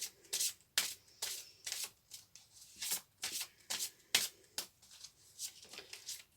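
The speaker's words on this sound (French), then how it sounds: "on va prendre une carte de l'oracle de l'archange Michael" A deck of Archangel Michael oracle cards is shuffled close by, a steady run of quick riffling bursts, soft and rhythmic, with no talk.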